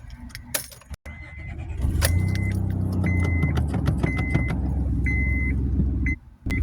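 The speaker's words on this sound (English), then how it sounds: "I gotta move my car here." Keys jangle and a car engine starts and hums steadily while the car is moved, with a repeating electronic chime beeping over the idle and a brief cutoff at the end.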